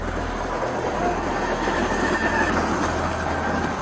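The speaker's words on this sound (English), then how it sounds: "the sound of a train became impossible to ignore" A loud train rumbles past close by, having just struck a patrol car, a continuous heavy roar with metallic wheel squeal and rattling over the rails.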